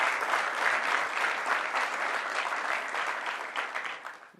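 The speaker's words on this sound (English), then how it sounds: "So let's give a round of applause to both our mayors" Crowd applause at a public event with the New York governor and mayors, a thick continuous roar of clapping heard from some distance that holds steady and then fades out at the end.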